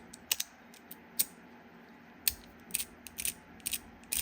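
A plastic-top fidget spinner flicked by hand gives a few sharp, bright clicks and light rattling ticks scattered irregularly, close and fairly quiet with no talk.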